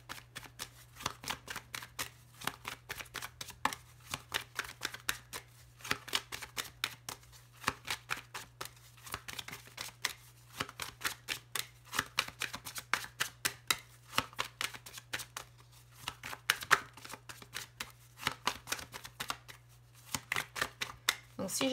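Oracle cards from the Oracle des ombres deck are shuffled by hand in quick, crisp riffling bursts that repeat steadily and close up, over a faint constant hum.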